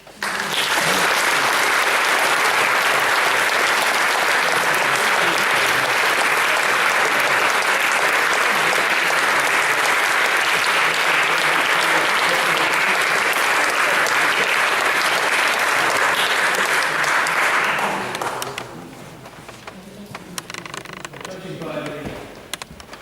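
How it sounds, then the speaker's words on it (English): Loud, sustained audience applause after a local history talk on Bishop John Grandisson, a dense roar of clapping lasting about eighteen seconds before dying away into quieter room noise with a voice and a few faint knocks. "Judging by the applause, I'm sure, like myself, you were fascinated by Alan's talk."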